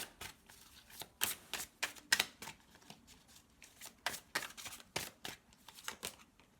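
Tarot cards riffled and flicked in a quiet room during a Capricorn reading, a run of crisp papery snaps and slides at an uneven pace, close and soft, with no voices.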